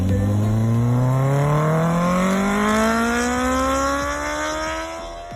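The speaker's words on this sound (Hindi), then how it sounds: "आज ना मैं आपको ZX-10R का साउंड सुनाता हूँ, वो भी 3 अलग अलग एग्जॉस्ट के साथ।" A Kawasaki ZX-10R sportbike fitted with an Akrapovic exhaust revs up in a loud, close rising howl, its pitch climbing steadily before easing off at the end, with no talking over it.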